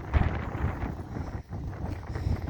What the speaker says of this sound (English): Ooh, it is so windy.